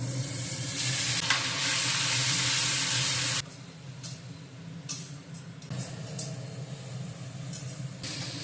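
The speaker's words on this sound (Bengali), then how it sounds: "তেলের মধ্যে গোটা গরম মশলা দিয়ে দিচ্ছি তেজপাতা দিয়ে দিচ্ছি এবার পেঁয়াজ বাটা দিয়ে দিচ্ছি" Whole spices, bay leaf and onion paste fry in hot oil for a prawn dish, giving a loud, dense sizzle that suddenly drops to a quieter, steady crackle with brief hissing spurts and stirring.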